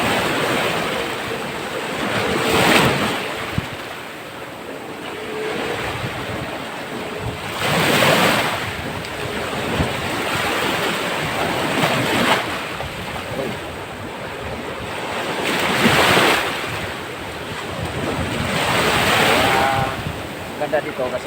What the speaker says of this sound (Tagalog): magkakad ako dito sa tabing playa tulad dito